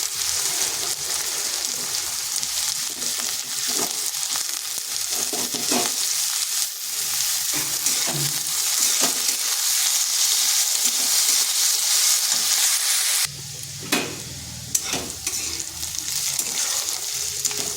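Potatoes and onion fry in a pan with a continuous crackling sizzle, while a utensil repeatedly scrapes and stirs; the sizzle briefly quietens partway through, then continues.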